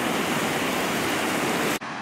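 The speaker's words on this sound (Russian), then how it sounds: "А там шумит Балтийское море. Вот пенится." Baltic Sea surf foams in a continuous broadband rush of churning water, heard alone and loud before it drops off sharply near the end.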